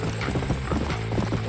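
Horse hooves pound in a fast gallop in the Red Dead Redemption video game, a close, rapid rhythmic clip-clop with a faint whinny.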